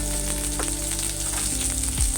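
Onions fry in a pan until soft for a restaurant-style paneer matar masala, giving a steady close sizzle with a few faint scrapes and a low hum beneath it.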